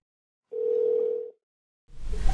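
A telephone gives a single steady tone lasting under a second after silence, followed by a short burst of handling noise and rustle as the phone is picked up.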